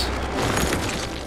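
A building is demolished in Cities: Skylines with a dense, continuous rumbling crash, loud and steady through the short moment.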